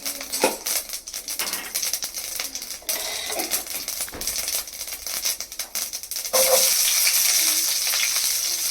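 Oil sizzling and crackling in a pan, with a spoon scraping and stirring against metal, steady and close without talk.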